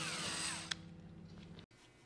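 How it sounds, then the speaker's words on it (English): A power drill bores holes for bolts in a homemade rack-mount server case, a steady high whine that runs, briefly clicks, then cuts out abruptly near the end. "marked out where I needed to drill some holes for some bolts to go through"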